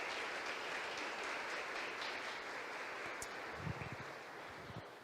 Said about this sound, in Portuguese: Você pode aplaudir a Jesus porque só Ele pode fazer isso.